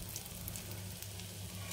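Dried red chilli and curry leaves fry in hot oil with fenugreek for a tomato chutney tempering, a soft, steady sizzle, faint and close, with no voices.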